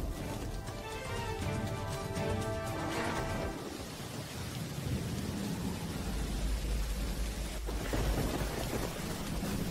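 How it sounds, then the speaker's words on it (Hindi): Dense, steady rain hisses loudly throughout, with a deep rumble of thunder rolling in toward the end. "बाहर इतनी जबरदस्त बारिश हो रही है"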